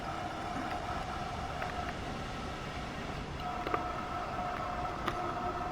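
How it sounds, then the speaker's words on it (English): A train in the Train Sim World 2 video game rumbles steadily in the distance with a continuous low drone, faint tonal whine and occasional clanks, no talk over it. "I did not know trains ran over there."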